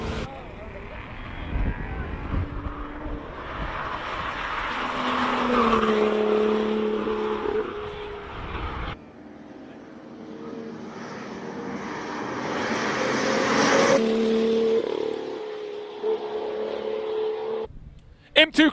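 A six-cylinder BMW M2 race car climbs a mountain hill-climb course at a Cape Town speed event. Its engine note rises and falls through repeated accelerations and gear changes, moving nearer then away, under a commentator's talk.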